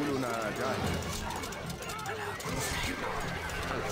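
Horses in the Stronghold: Crusader strategy game, with busy galloping hoofbeats and a neigh under game voices speaking, all dense and fairly loud for the whole stretch.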